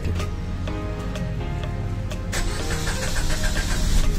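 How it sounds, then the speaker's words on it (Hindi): A Suzuki Swift Dzire starts with its push-start button: a whirring starter crank with a tonal hum, then the engine catches and settles into a louder, rougher idle close by. "ये देखिए इंजन ऑन हो गया पुश स्टार्ट वाला।"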